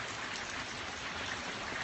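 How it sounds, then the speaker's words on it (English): Consistent rain falls in the San Fernando Valley during a thunderstorm, an even, unbroken hiss of drops filling the whole stretch without voices. "That's the rain coming down that you hear."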